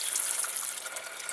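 A short, steady stream of coolant pours and splashes into a car radiator with a bright, hissing wash, continuous and fairly close.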